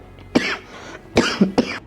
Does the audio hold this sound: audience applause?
no